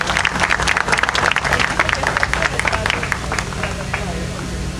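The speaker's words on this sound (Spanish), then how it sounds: "un aplauso para Carlos." A crowd applauds a winner at a photography contest award ceremony, with dense, steady clapping that is loud and close at first and tapers slightly toward the end, over a murmur of voices.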